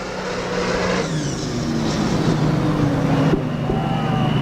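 A tractor engine strains hard in a pulling contest, a loud sustained roar with shifting tones as fuel is forced in, nearby and continuous without talk.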